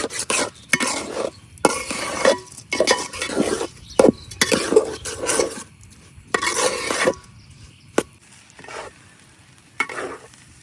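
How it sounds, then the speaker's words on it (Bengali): Broken rice (khud) roasting in a pan with onion and garlic, with repeated bursts of stirring and scraping against the pan over a soft sizzle, plus an occasional sharp clink of a utensil. "পেঁয়াজ রসুনের সাথে আমি খুদটা এখন 2-3 মিনিটের মতো বাজা নিয়ে আর কি, বেশি বাজারও দরকার পড়ে না"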